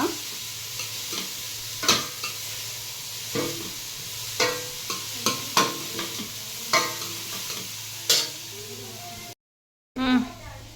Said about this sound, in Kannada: ಈಗ ತರಕಾರಿ ಫ್ರೈ ಆಗ್ತಾ ಘಮ ಚೆನ್ನಾಗಿ ಬರುತ್ತೆ